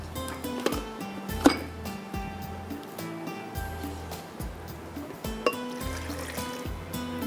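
A little water trickles into a blender over raw onion for a mutton and bottle gourd gravy, a soft, brief pour under steady background music.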